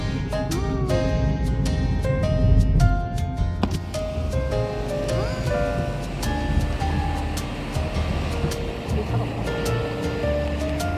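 Ocean waves wash onto the shore in a steady, broadband rush. Background music and people talking sit over it.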